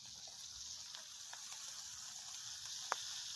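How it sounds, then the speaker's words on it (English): A ribeye steak sizzles in a pan at an outdoor tailgate cookout, a steady, close frying hiss that continues without a break, with one brief pop near the end. "listen to that sizzle"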